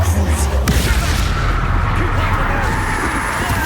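Bombarda spell blast in the Hogwarts Legacy video game, a loud booming explosion with rumbling low end amid game sound, with a voice calling over it.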